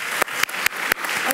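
Audience applause after a talk, a dense steady patter of many hands clapping at close range, broken by a few sharp accents, with no voices over it.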